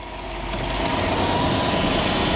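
A 1966 Ford Thunderbird engine runs steadily close by, a continuous mid-pitched idle that swells slightly as the car is put in gear, with no voices over it.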